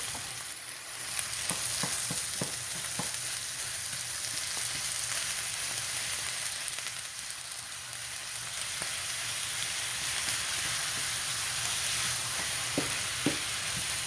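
Ground turkey cooking in a pan on low heat for taco salad, a steady bright sizzle throughout with occasional light clicks of a utensil stirring, no talking.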